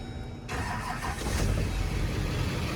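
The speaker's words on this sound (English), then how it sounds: "Fires right up with a fresh battery." A Duramax diesel truck engine cranks and catches about half a second in, then settles into a loud, steady, close-up diesel rumble with a fresh battery.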